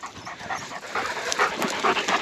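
A young working farm dog panting rapidly outdoors while mustering ewes on a hillside paddock, a steady breathy rhythm close up with no talk.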